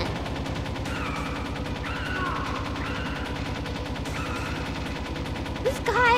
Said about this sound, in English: I'm literally shooting him right now.